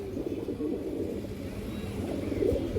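Pigeons cooing, low soft repeated coos in a steady murmur with faint background noise, close and continuous throughout.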